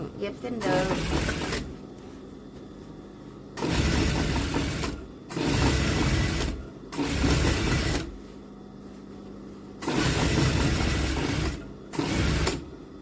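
A sewing machine stitching the crotch seam of a pair of straight-leg trousers, loud close bursts of rapid whirring that start and stop about six times, with someone speaking Thai in the quieter gaps between runs.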